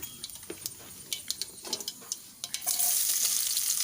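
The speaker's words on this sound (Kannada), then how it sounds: "ಸಾಸಿವೆ ಹಾಕ್ಕೊತಿದ್ದೀನಿ, ಜೀರಿಗೆ ಹಾಕ್ಕೊಳ್ತಿದ್ದೀನಿ." Mustard seeds and cumin pop and crackle in hot oil in several sharp bursts, then settle into a steady, loud sizzle toward the end.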